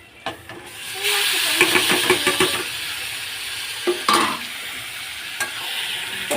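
Marinated chicken dropped into hot oil with browned onion and fried garlic bursts into a loud, steady sizzle, with stirring clatter and scraping in the pan at the start and again midway.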